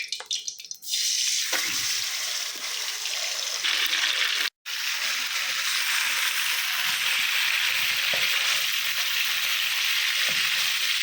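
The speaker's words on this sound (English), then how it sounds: "Okay, the oil is hot enough. And now what I'm going to do is pour this chicken in it." Loud, steady sizzling of chicken frying in hot oil for chicken karahi, a brief clatter at the start, then continuous crackling hiss close up.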